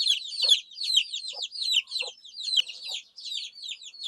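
Chickens clucking beside a backyard chicken coop in rural Korea, a busy run of short, rapid chirpy clucks that keeps going throughout, moderately close and fairly soft, with no voices.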